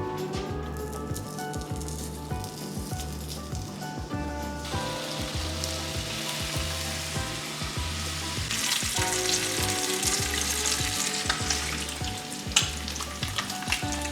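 Bacon fries in a pan with a steady, dense sizzle and crackle that grows louder in the second half, close and without speech.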